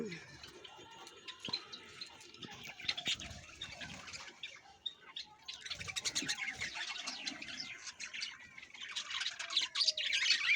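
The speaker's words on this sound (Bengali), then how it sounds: "এদিকে আছে বদ্রি পাখির কলোনি" A budgerigar colony in an aviary chatters and chirps continuously, with dense overlapping high warbles that swell louder toward the end, and faint low sounds underneath.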